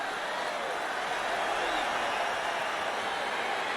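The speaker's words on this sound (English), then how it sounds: "crowd getting excited as this fight gets underway" A steady, broad roar of an arena crowd cheering as a light heavyweight UFC 4 bout gets underway, even and sustained throughout with no breaks.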